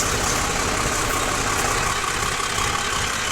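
Tractor engine idling steadily while spreading fenugreek husk on a farm, a constant dense rumbling drone, close and loud throughout with no talk.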